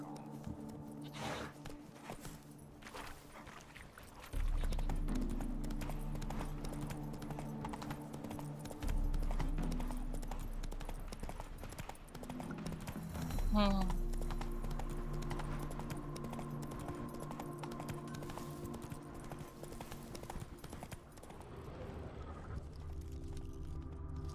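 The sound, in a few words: horse galloping in a video game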